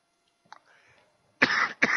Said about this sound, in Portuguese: Essa tosse alérgica,